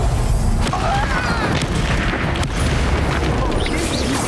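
Confringo, a fiery explosion spell cast in Hogwarts Legacy on Nintendo Switch, bursts amid dense battle noise, a heavy continuous rumble with sharp blasts layered over the game's busy mix.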